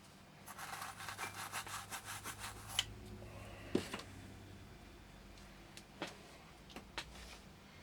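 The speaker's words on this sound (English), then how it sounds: "Just clean my iron off." A soldering iron tip is wiped clean during a ZX81 circuit board repair, producing a series of quick rhythmic scratchy rubbing strokes followed by a few sharp taps, faint and close.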